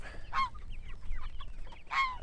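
Two short, nasal honks from a goose on a farm, spaced over a couple of seconds, fairly faint against quiet surroundings.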